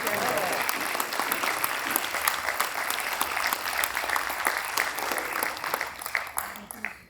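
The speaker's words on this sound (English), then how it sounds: "So can we stand and give a round of applause?" Sustained applause from a standing audience at a Rotary multi-district conclave hall, dense and steady with sharp individual claps, fading out at the end.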